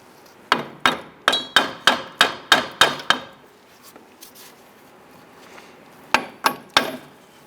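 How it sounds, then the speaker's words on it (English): Hammer taps on the front strut shock unit of a 1994-2004 Ford Mustang: a quick run of about nine sharp metallic blows in steady rhythm, a pause, then three more strikes, loud and close. "go ahead and tap on the shock unit."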